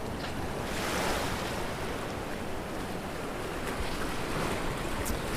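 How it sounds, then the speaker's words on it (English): Ocean surf rolls onto the shore in a loud, continuous wash of breaking waves, mixed with some wind buffeting the microphone, and no talking. "Oh yeah, the waves come in and woo."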